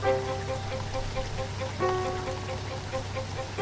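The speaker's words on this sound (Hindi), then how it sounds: "तेज बारिश हो रही थी।" Heavy rain as a sound effect, a dense steady hiss of falling water with a constant low rumble underneath, continuous and even throughout, alone without voices.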